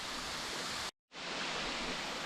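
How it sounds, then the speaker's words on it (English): A small waterfall at Purragulli Creek gives a steady broadband rush of falling water, close and loud, cut by a brief silent gap near the middle before resuming. "Not the hugest waterfall, but here it is."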